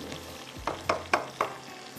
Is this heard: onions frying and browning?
yes